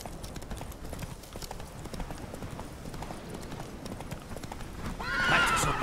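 In The Witcher 3 video game, rhythmic hoofbeats clatter steadily as a horse runs, ending with a loud whinny near the close.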